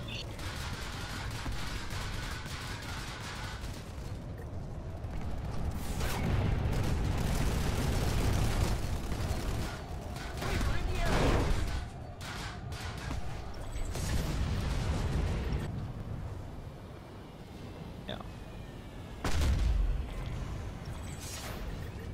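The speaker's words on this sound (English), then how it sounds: "Oh, you're gonna die, there was so much flak." Dense, continuous anti-aircraft flak fire in the video game Planetside 2, a rumbling wash of overlapping bursts and explosions that swells and fades, with occasional voices talking beneath it.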